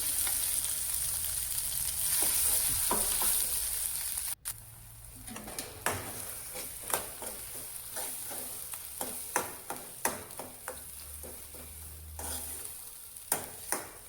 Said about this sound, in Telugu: ఈ పోపులో మనం ముందుగా గ్రైండ్ చేసి పెట్టుకున్న బీరకాయ పచ్చడిని వేసి ఫ్రై చేసుకోవాలి